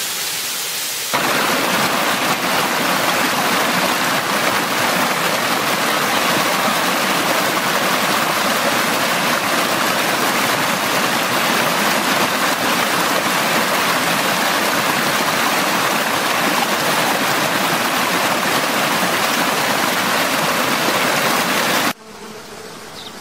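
A small waterfall flows in a loud, steady, unbroken rush of water that holds for over twenty seconds before dropping off abruptly near the end.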